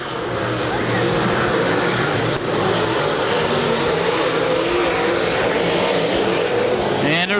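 Late model race cars roar around a dirt track at US 36 Raceway in an MLRA Late Models race, a dense, loud and steady engine drone lasting throughout, with a commentator talking over it.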